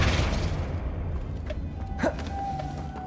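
The Flipendo spell in Hogwarts Legacy, the game, lands with a deep booming thump at the start, followed by a low rumble that fades over a few seconds, with faint small game effects after.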